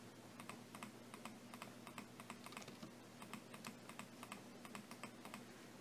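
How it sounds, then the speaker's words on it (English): Rapid, irregular computer mouse clicks, crisp and close, tapping away over a steady low electrical hum with no voices. "Can you hear my mouse clicking?"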